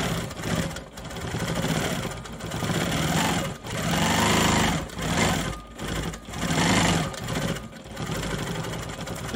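A Quilt Maker Pro 20 quilting machine stitches a quilt, a loud close mechanical whirr that rises and falls in long bursts with brief pauses as it follows a ruler line.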